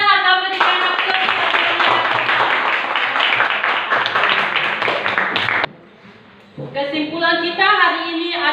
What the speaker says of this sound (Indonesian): Kita akan berikan aplaus.